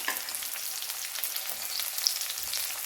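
Sliced big onions and dried red chillies crackle in hot oil with fennel seeds, a bright continuous sizzle with small popping spatters, close and unbroken.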